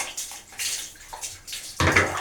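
Warm water splashing and running over a dog during a bath, loud and close, in uneven bursts with a stronger gush near the end, no talk.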